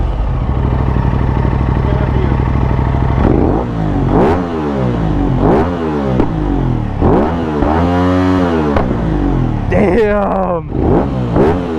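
An Aprilia RS 660 motorcycle with an Akrapovic exhaust idles loudly nearby, then revs in a series of sharp throttle blips that rise and fall, with excited voices reacting between revs.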